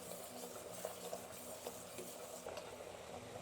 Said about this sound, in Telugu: చూడండి బాగా మరుగుతూ ఉందండి